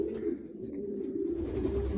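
Pigeons in a pigeon loft, a low, continuous cooing that rises and falls steadily and sounds close.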